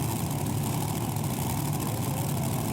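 A pulling tractor's engine runs at a loud, steady, heavy low drone at a European tractor pulling championship in Brande, Denmark, with no break in the sound.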